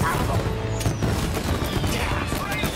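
Firecrackers bursting in a mafia video game, dense crackling pops and booms layered over game noise, loud and continuous with someone talking over it.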